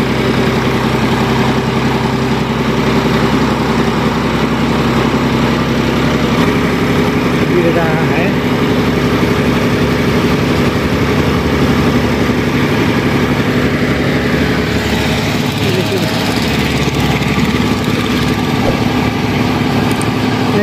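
A tractor fitted with a lifting attachment runs steadily while raising its load outdoors, a continuous low engine drone throughout with rough mechanical texture, and voices talking faintly over it.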